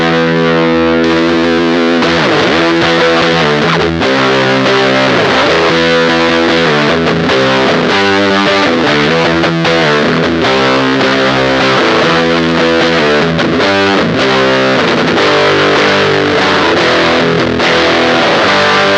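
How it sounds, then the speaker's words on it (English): Whimsy Machines Jeff fuzz pedal driving a heavily distorted electric guitar, played first with the oscillation off and then switched on, giving a dense, continuous loud fuzz with chord stabs and a grittier texture. "when you combine the oscillation with your playing, it gives the fuzz like a gnarlier and more aggressive texture"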